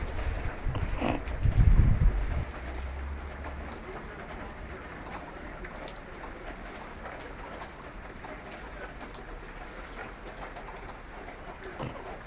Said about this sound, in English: There was not much change in the wind and rain.